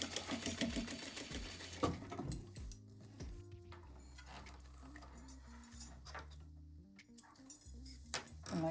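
A sewing machine stitching a zippered pouch, running in short bursts with a rapid mechanical whir, punctuated by light metallic clinks from the presser foot and zipper pull, close and fairly quiet.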